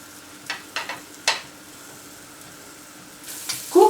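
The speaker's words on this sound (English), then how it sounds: "Cook the pork cheek until it turns crispy" Pork cheek pieces fry in a dry pan without oil and sizzle quietly, with a few louder bursts as the pieces are stirred and moved around.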